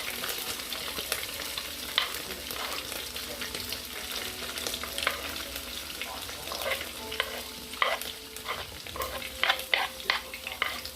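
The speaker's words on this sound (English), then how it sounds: "Olive oil is heated. And add all the vegetables." Mixed vegetables tossed into heated olive oil for a chicken and shrimp stir-fry, crackling and hissing close by while a utensil stirs and clatters in irregular bursts, with no voices over it.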